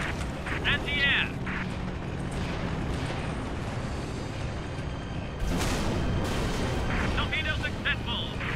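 Dense, continuous anti-aircraft fire and booming blasts in a World War II flight combat game, with a torpedo release among the rumbling barrage and brief voice-like callouts over the steady roar.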